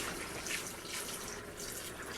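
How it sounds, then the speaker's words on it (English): Hot water pours steadily into a pot of cooking meat for an okra sauce, a continuous soft splashing and trickling with no talk over it. "Add this quantity of water, hot water, into my meat."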